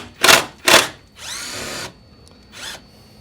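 A power tool whirs in two short bursts, then a longer run and a final brief spin, removing T30 screws from the inner liner of a 2006 BMW Mini R56 diesel, close and loud.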